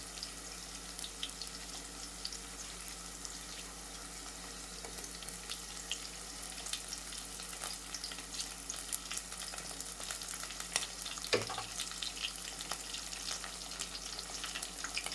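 Green chillies for Andhra-style upma sizzle and crackle steadily in hot oil in a pan, with a brief stir or scrape near the end and no talking.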